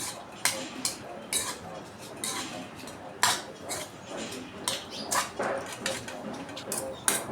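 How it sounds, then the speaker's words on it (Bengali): A spoon stirs papaya pieces in food colouring while making tutti frutti at home, giving a series of light clinks and scrapes against a bowl at an uneven pace, with soft handling noise in between. "দেখুন আমি কিভাবে নেড়ে নেড়ে কালারগুলো লাগিয়ে দিচ্ছি"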